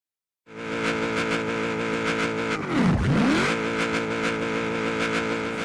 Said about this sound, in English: So second gear was revving way too high